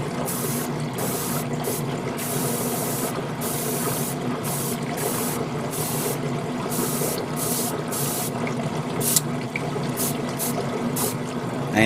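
An airbrush or spray gun sprays paint onto a part of a Master Grade Narrative Gundam model kit, giving a steady, close hiss broken by short on-off pauses between passes.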